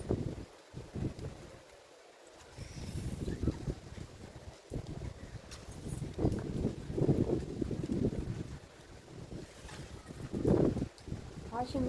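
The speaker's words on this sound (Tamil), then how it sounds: "நீங்களே கேட்டு பாருங்கள் எப்படி காற்று வருது." Gusty wind buffets and roars across the microphone in rising and falling surges, loud and close, with a voice speaking underneath.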